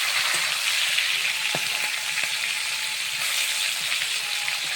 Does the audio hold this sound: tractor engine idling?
no